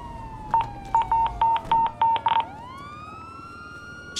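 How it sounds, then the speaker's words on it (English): A run of short electronic phone beeps in a video game, about seven in quick succession, followed by a rising siren-like tone, with a steady background hum. "Why my phone beeping so much, dog?"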